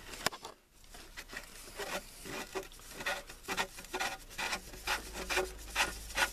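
A threaded 1.5-inch male plastic insert is screwed by hand into a sump pump fitting, giving faint repeated scraping and rubbing twists in a steady rhythm, close and quiet, with no talk.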